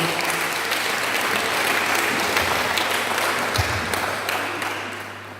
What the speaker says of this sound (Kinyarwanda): Twakomera Imana amashyi menshi y'ijambo ry'Imana.